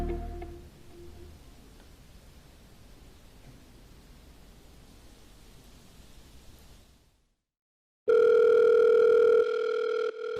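An unanswered telephone call's ringback tone comes in loud and steady near the end, after a long stretch of soft hiss and a brief silence.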